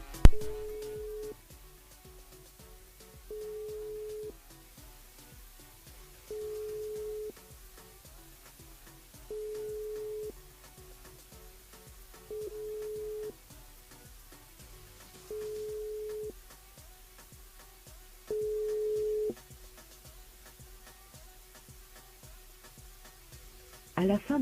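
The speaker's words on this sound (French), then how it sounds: "on rappelle Eric, bien évidemment, sur le standard" An outgoing telephone call rings on the line: seven evenly spaced tones about three seconds apart over a faint steady background hum, with no voices.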